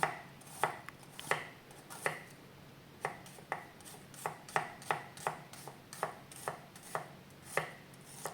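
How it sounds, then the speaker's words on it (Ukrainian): A knife slices a small white onion into thin strips on a board: crisp, evenly spaced thuds, about two per second, close and clear, with no talk. "звичайна біла ріпчата цибуля. Нарізати слайсами соломкою."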